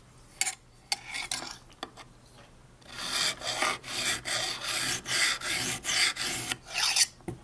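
A knife edge is drawn across the last sharpening stone, first in a few scattered scrapes, then in a steady run of close, rhythmic gritty strokes, with no one speaking.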